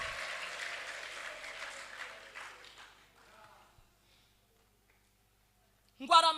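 A church congregation claps and cheers in a dense burst of applause that fades away into near silence. A voice then starts up loudly near the end.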